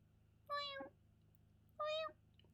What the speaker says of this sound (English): There's your meows.